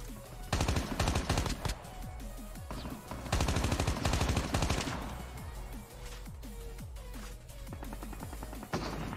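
Gunfire in Call of Duty Mobile battle royale, rapid automatic bursts and scattered single shots repeating throughout, loud and close over game ambience.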